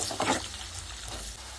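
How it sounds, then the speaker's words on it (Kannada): Chopped onions frying in a pan for tomato gojju, a steady close sizzle and hiss with a few brief stirring scrapes near the start, no voices. "ಕಟ್ ಮಾಡ್ಕೊಂಡು ಹಾಕೊಂಡ್ಬಿಟ್ಟು ಸ್ವಲ್ಪ ಫ್ರೈ ಮಾಡ್ಕೊಳ್ಳಿ"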